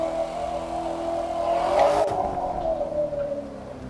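Chevrolet Corvette Stingray in The Crew 2, engine droning and revving loud and close, rising to a peak midway before settling back to a steady hum.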